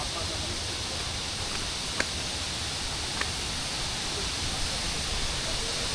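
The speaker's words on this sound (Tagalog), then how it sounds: "Ang lakas ng daloy ng falls ngayon." Strong, steady rushing of Tagbibinta Falls, a broad continuous wash of falling water close by and fairly loud, with a couple of faint clicks over the constant roar.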